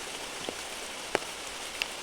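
Faint rain falls over an arecanut plantation, a soft continuous hiss broken by a few louder individual drops landing nearby.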